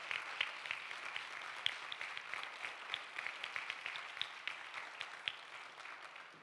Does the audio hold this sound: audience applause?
yes